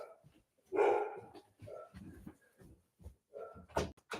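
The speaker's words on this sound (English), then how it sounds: "Sorry, my dogs are freaking out." Dogs indoors barking in short, loud bursts, several barks spread over a few seconds with quieter rustling and thuds between them.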